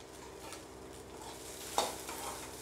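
Onions and dried red chilies sautéing in a pan for drumstick-leaf chutney, giving a steady soft sizzle and stirring scrape with one brief clink partway through, no voices.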